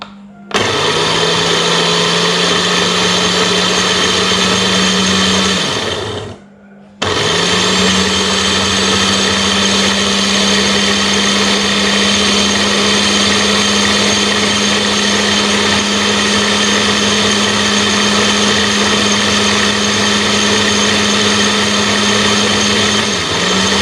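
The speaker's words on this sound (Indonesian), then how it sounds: "Begitu kita tekan tombolnya, dia akan berputar." A Cosmos multifunction blender, made for grinding meat and making juice, runs loud and steady at high speed with an even whine, stops briefly near the start, then starts again and keeps running without any voices.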